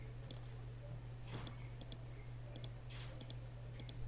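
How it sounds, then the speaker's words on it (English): Faint clicking, like keys being tapped on a keyboard somewhere downstairs, coming in short irregular bursts over a quiet, steady background hum. "Someone's playing on the damn keyboard downstairs."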